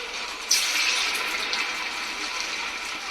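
Vada or bonda batter, made from leftover rice, sizzles and hisses steadily in a pan of hot oil, with a sharp rise as it drops in; loud and close throughout with no talking.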